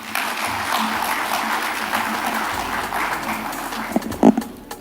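Audience applause after a conference presentation at an industry event, a dense sustained clapping crowd filling the room, loud and continuous, with a few sharper claps near the end.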